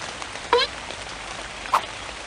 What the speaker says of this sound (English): The rain is finally gone!